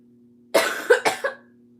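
A person coughs three or four times in a quick close burst, loud and clear against a quiet room with a faint steady hum.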